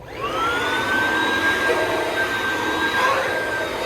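An Oreck vacuum cleaner runs on its low speed setting, giving a steady, loud whine with a rising motor tone at start-up that then holds level for several seconds, sounding close by with no talking.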